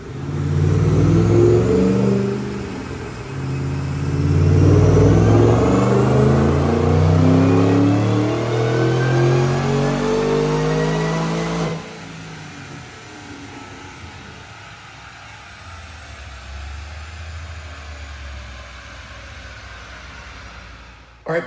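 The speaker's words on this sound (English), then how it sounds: "Check out this dyno pull." A supercharged 2008 Roush P-51 Mustang with Detroit Rocker cams, no headers, on 93 octane revs loud and rising through a full dyno pull, then drops to a lower idle-like drone for the last stretch.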